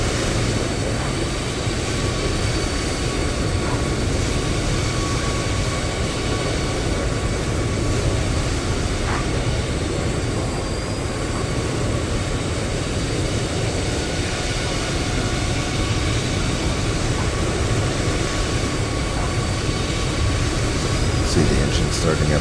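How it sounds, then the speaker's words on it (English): Airbus A330 engines spooling up in a flight simulator game, a steady loud broadband roar with faint whining tones that holds throughout, with voices talking over it. "See the engine starting up there."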